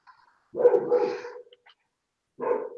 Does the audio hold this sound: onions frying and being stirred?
no